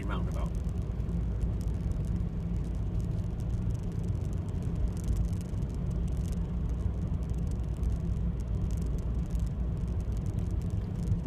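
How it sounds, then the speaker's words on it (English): A car driving on a road toward a mini roundabout, heard from inside as a constant low engine and tyre rumble with a talking voice over it. "We're just driving down here now."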